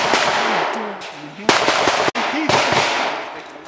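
Sharp pistol shots crack out at an outdoor action pistol match, two loud reports about a second apart standing out over a steady background of talk and crowd chatter.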